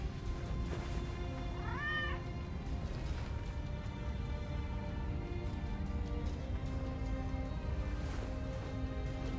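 A cat clock in the video game Nioh lets out a single short, rising meow over steady in-game music and ambience. The call is clear but brief and sits near the start.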